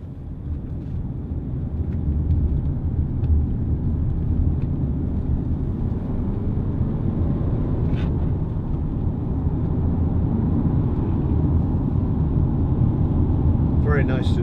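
A Mazda CX-7 2.2 diesel SUV cruising on a UK road in strong winds, with a constant low road and engine rumble and wind buffeting filling the cabin throughout.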